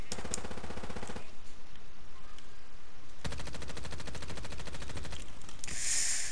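Video game gunfire from an older meta gun: rapid automatic bursts in two long strings separated by a short pause, loud and close, with no talking over them.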